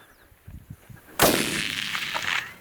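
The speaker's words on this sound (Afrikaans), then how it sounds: "Ek het 3 skote nou gevat en toe hardloop die bok eers" A single loud rifle shot cracks out during a springbok hunt in the veld, preceded by faint knocks and followed by a long rolling echo that slowly fades.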